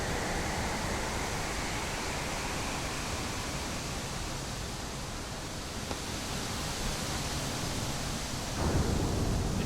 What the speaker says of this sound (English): I can't hear you with all this wind.